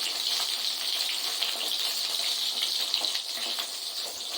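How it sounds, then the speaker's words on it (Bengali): Fish fries in hot oil in a home kitchen, giving a steady, bright hiss and crackle that holds evenly throughout with no voices. "দেখো মাছটা ভাজা হচ্ছে"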